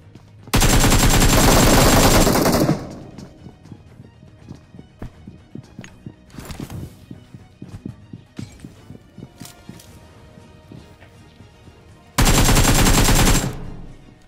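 Loud close automatic gunfire bursts in a PUBG Mobile match, a long rattling volley at the start and another near the end, with quieter scattered footsteps and distant shots in between.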